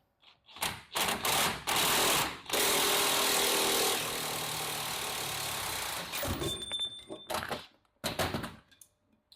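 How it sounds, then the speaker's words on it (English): Loud bursts of a pneumatic impact wrench hammering during an LS3/L92 6.2 engine teardown, a long sustained rattling run in the middle, then a few shorter blasts separated by pauses. "You're going to grab your impact and you're just going to hammer down."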